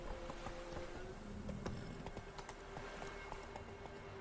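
Roach the horse trots in The Witcher 3 with steady hoof clip-clops, fairly quiet, over a background of ambient game sound and a sustained musical tone.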